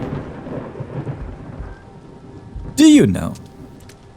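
Thunder and rain in the video game The Seance of Blake Manor: a steady low rumble of rainfall, then a sudden loud thunderclap that rolls off slowly, with a brief spoken voice.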